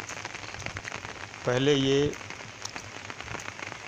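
Heavy monsoon rain falls steadily on a village farm, a constant wash of patter throughout, briefly overtaken midway by a loud tonal burst, with faint speech underneath.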